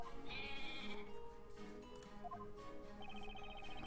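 A goat bleats in the Professor Layton vs Phoenix Wright video game, with a few short wavering cries set against a steady bed of game music.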